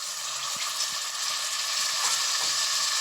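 Tomatoes and green chillies sauté in a pan for a vegetable salna, giving a steady close-up sizzle with a few soft knocks from stirring.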